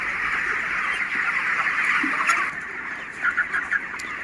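Broiler chickens in a hot poultry shed make a dense, steady chorus of clucking and chirping that carries through, with a few louder calls standing out near the end.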